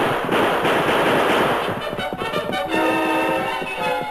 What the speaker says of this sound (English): As Silver reared high over Braden, the masked man's bullet sent the rifles flying